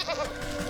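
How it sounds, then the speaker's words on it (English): Brief goat bleat in the video game Wytchwood, a single wavering, nasal cry lasting under a second. "The goat."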